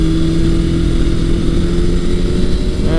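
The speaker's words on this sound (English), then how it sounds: "once it's warmed up like this, it seems to be running pretty decent" A 1982 Suzuki GS750E motorcycle engine idling warm, a loud, close, steady rumbling hum with a constant low drone and slight roughness, running alone without speech.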